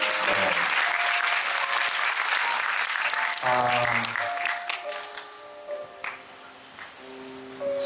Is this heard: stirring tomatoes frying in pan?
no